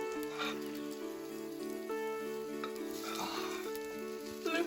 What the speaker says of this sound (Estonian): Õige särin tuli.